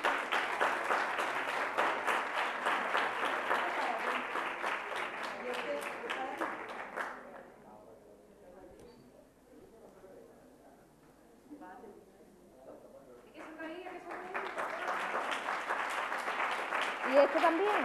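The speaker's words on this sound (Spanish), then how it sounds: "Un aplauso fuerte." Loud applause at an awards gala for a nativity scene and Christmas tree contest, strong clapping that fades into a quiet stretch with soft talk, then swells again.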